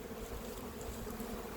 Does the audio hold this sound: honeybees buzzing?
yes